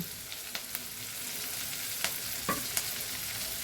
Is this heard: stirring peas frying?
yes